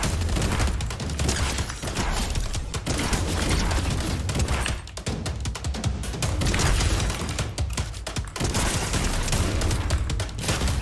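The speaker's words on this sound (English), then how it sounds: "Now we're going to use this combat shotgun, get some gameplay behind it" Rapid repeated shotgun blasts from a combat shotgun in Fortnite gameplay, loud and dense, firing almost continuously with brief gaps and crashing impacts throughout.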